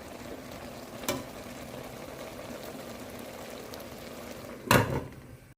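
Ash gourd curry cooking in its own released juices, with no water added, simmers steadily under a lid in a pot, a soft continuous bubbling hiss broken by two brief clinks, the second louder.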